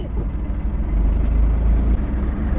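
A truck engine idles and rumbles nearby in a deep, steady drone while the driver prepares to reverse, with no clear reversing beeps standing out.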